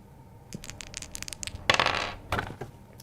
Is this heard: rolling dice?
yes